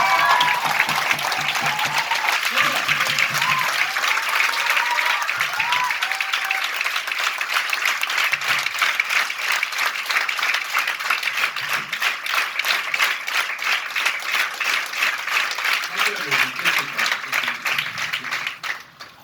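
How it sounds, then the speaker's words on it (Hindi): Sustained, loud audience applause fills a seminar hall as a mentor is welcomed to the stage, dense steady clapping lasting nearly twenty seconds before tapering off at the end. "एक जोरदार ताली"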